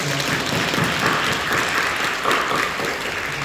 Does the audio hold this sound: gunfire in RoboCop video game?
no